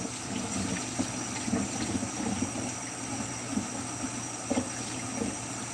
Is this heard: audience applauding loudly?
no